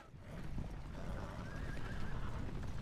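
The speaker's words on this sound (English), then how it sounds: "More cavalry, just more horse archers" Cavalry horses, horse archers in the Edain Mod battle game, neigh and whinny over a steady clatter of hooves and battle noise, one rising whinny standing out near the middle, no talk.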